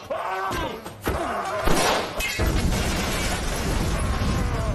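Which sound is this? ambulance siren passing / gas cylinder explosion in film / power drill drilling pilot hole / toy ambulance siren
gas cylinder explosion in film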